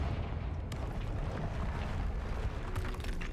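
A Confringo blasting curse in Hogwarts Legacy, heard as a low, rumbling blast, steady and broadband, with a dull roar through the whole stretch and no clear sharp onset.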